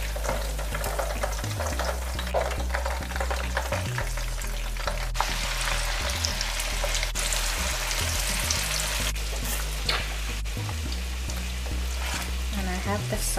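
Chicken sizzles steadily in hot sauce, a close, continuous crackling fry with occasional stirring and a low background hum.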